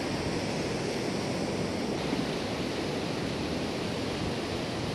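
Sea waves at Thuy Van beach in Vung Tau wash in a steady, broad roar of surf, constant and fairly loud, with no voices.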